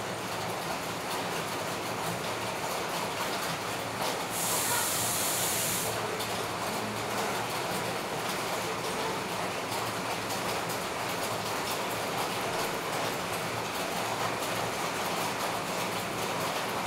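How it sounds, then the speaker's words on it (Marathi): Potato finger chips fry in hot oil with a steady, even sizzling hiss that runs unbroken throughout, moderately quiet and close, briefly brightening for a couple of seconds, with no talking. "हे सगळे फिंगर चिप्स आपल्याला तळून घ्यायचे आहेत."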